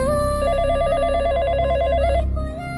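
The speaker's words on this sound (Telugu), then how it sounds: "ఫోన్ రింగ్ అవుతుంది" A telephone rings with a bright, repeating electronic warble for a couple of seconds, loud and close, then stops abruptly.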